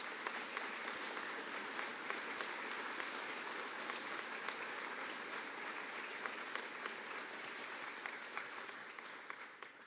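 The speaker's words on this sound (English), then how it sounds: "Let's have a round of applause for our newest members." Sustained applause from the crowd at a Taylorville High School National Honor Society induction ceremony welcoming new members, a steady, dense patter of many hands for about ten seconds, somewhat distant in a large room, easing slightly toward the end.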